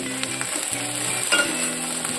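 Ginger garlic paste sizzles steadily as it fries in hot oil in a clay pot, a close, continuous hiss with a faint clink of stirring partway through.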